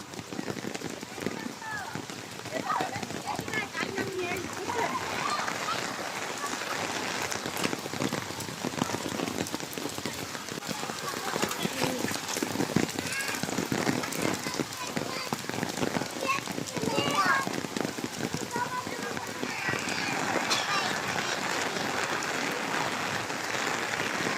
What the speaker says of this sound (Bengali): অনেক বৃষ্টি, এই বৃষ্টির মধ্যেই বাচ্চাদের ছুটি হয়েছে।